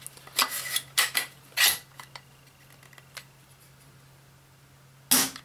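An Ares Striker AS02 airsoft sniper rifle is test fired: several sharp, close mechanical clacks and snaps arrive in an irregular cluster, then a pause before one last crisp shot.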